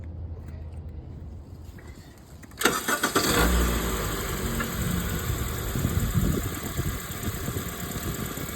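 A 2014/2015 Honda Civic EX engine cranks and catches after a quiet moment, jumping to a loud start and then settling into a steady, close idle that continues to the end.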